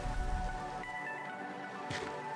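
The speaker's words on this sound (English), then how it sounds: "I am going to get rid of the rain" Steady rain hisses in the Minecraft modpack All the Mods 9 To The Skies, a soft continuous wash running under faint tonal game music.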